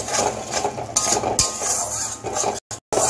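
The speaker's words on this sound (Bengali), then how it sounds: "টমেটো পেস্টটাকে ভালো করে কষিয়ে নিচ্ছি।" Tomato paste and spices stir-fried in a pan: close scraping and clinking of a spoon against the metal over a light sizzle, busy and uneven, then two brief dropouts near the end.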